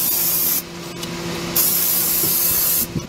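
Lubricant sprayed from an aerosol can onto front brake parts of a 2007 Honda Civic, two loud hissing bursts of spray separated by a short pause, close up, with faint workshop background.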